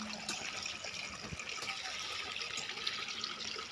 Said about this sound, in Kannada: ನೋಡಿ ನದಿ